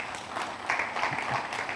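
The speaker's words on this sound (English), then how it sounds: "I think we should give them a round of applause" A summit audience applauds at a cyber security event, a steady wash of clapping from a seated crowd that swells slightly midway and carries on without any speech.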